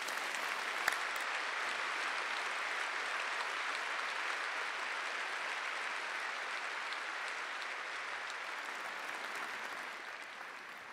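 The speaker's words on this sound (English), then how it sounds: "Please join me in a round of applause to our graduates." A large audience at an Imperial College postgraduate graduation ceremony applauds the graduates, steady dense clapping sustained for the full eleven seconds in a big hall.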